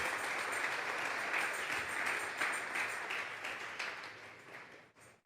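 Church congregation applauding during a Sunday service, a dense wash of clapping from many hands that holds steady, then gradually thins and fades out near the end.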